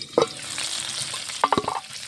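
Spiced eggplant fries in a pan with a steady hiss under a few sharp clinks and scrapes of a utensil stirring nearby.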